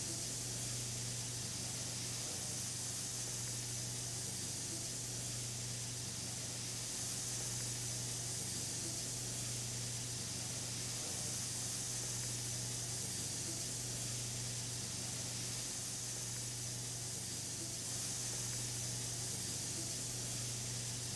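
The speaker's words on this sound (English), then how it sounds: "They're really sizzling away." Burger patties sizzle steadily in a hot pan, a constant close hiss and crackle that runs on alone without pause.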